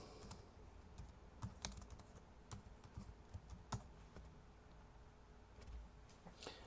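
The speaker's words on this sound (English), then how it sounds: "so we're just going to type them in again." Keystrokes clatter on a computer keyboard at a desk, a quiet run of irregular taps and clicks with a few louder strikes, steady throughout with no voices.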